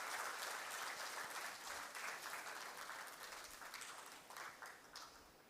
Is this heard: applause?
yes